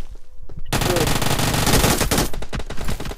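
Rapid automatic gunfire in a video game, loud and continuous bursts after a brief quiet start, with a player's voice faintly mixed in.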